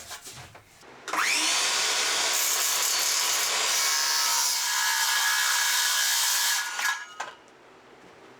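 A power saw cuts a four-foot shelf board in half, a loud, steady whining cut lasting about six seconds, with quieter handling and wood noise before and after.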